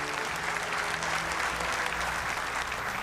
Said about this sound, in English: Please give him another big hand of applause.